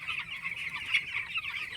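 Young poultry chickens, about 15 days old, cluck and chirp continuously in a dense chorus that sounds moderately close and fairly soft, with no talking.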